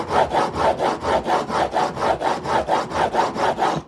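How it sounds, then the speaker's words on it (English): A coarse diamond file stroked rapidly back and forth across a steel woodworking blade, a loud, close, rhythmic rasping of about a dozen even strokes with no talking. "These fairly coarse diamond files are so aggressive."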